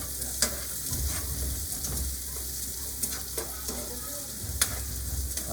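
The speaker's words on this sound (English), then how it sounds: "I wanna show you how much to cook the garlic too" Garlic sizzles steadily in a hot pan, with close stirring scrapes and clicks breaking in at irregular moments. No one speaks.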